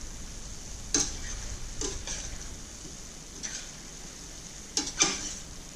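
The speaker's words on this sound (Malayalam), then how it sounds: "ഇളക്കി കൊടുക്കാം" Thai green curry pasta with chicken curry powder being stirred in a pan, with a low sizzle and a few scraping strokes near 1, 2, 3.5 and 5 seconds. No one speaks.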